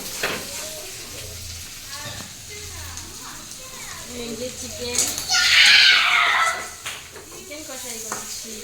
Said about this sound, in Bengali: আজকে সানডে আমাদের বাড়িতে চিকেন রান্না হচ্ছে দেখুন